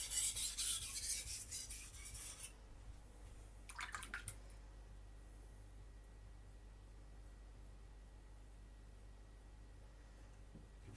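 A Takamura Migaki R2 gyuto knife is sharpened on a stone, with a few seconds of close, gritty rasping strokes, a brief burst of scraping, then near quiet.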